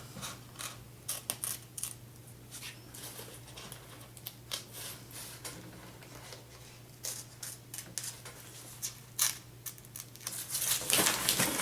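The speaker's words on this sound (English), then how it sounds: "now what I'm going to do is cut a little miter on each one of these corners" Quiet, scattered snipping clicks and crinkles as small miters are cut into the corners of stove jack material, coming in irregular bursts close by.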